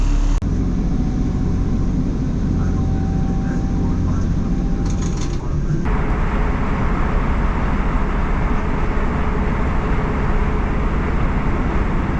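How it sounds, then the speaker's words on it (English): Train ride to Blackburn, a loud, steady rumble of the carriage in motion with a faint tone for the first few seconds before the noise shifts to a broader, rougher roar. "Made it on the train to Blackburn."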